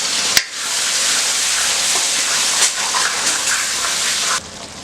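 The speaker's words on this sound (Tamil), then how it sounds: "இதுக்கு லேசாக கொஞ்சமாக மட்டும் தண்ணி ஊற்றலாம்" A small amount of water is poured into a cooking pan holding spices and turmeric powder for a side dish, a continuous close gushing splash lasting about four seconds after a brief clink.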